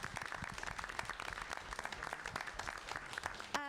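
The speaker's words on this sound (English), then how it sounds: "so let's give them a clap." A school board meeting audience applauds a group of students, steady dense clapping filling the room for several seconds before a voice begins speaking at the very end.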